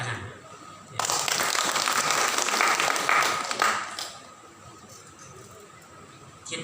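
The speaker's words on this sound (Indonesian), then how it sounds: "Tepuk tangan." An audience at a Hindu community gathering in Badung breaks into applause during a leader's speech; the clapping starts abruptly, fills about three seconds, then fades back to a quiet room.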